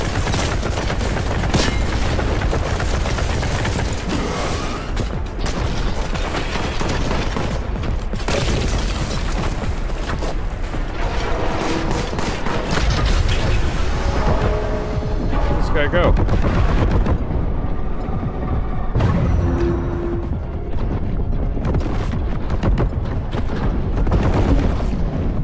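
Grenade explosions and rapid gunfire in Warhammer 40,000: Boltgun, a dense, continuous barrage of loud shots and booms filling the whole stretch with mechanical clatter, sustained without any break.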